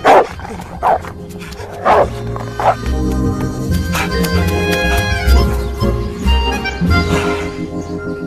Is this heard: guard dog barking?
yes